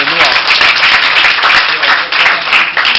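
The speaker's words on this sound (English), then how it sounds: "A round of applause for her." A studio audience applauds a guest speaker being introduced at a university presentation, with a burst of close, dense clapping that runs for a few seconds, dipping briefly before continuing.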